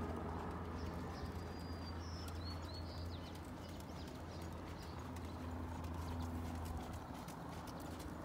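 A ridden horse's hooves clip-clop steadily on the footing of a riding arena at moderate distance, with birds cooing and chirping faintly behind.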